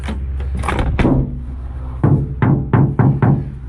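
A poorly fitted replacement door on a VW T5 Combi van is worked open and shut, with a scraping rattle and then a rapid run of five sharp, heavy thuds close by.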